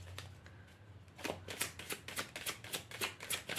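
Tarot cards being shuffled by hand close up and quietly, a run of quick papery riffles and flicks in an uneven rhythm that grows busier toward the end.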